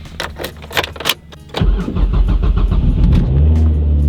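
A Mazda 3 car engine starts after some light clicking and rattling, catching at once into a loud, steady idle close by, with no talking.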